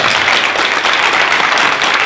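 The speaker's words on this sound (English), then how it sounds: "Let's give them another round of applause." An event audience breaks into loud, dense applause, many hands clapping together in a steady, close roar that fills the short moment.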